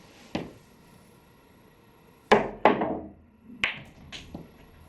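Pool cue striking the cue ball with topspin for a jump shot off the point of the pocket: a sharp tap, a pause, then a louder crack followed by quick ball clacks and rolling, close and clear.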